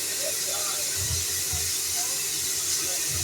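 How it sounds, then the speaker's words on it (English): Steady broadband steam hiss at a whistle blow event, continuous and fairly loud throughout, with low rumbling and faint indistinct voices in the background. "That's the reason for all the smoke and steam."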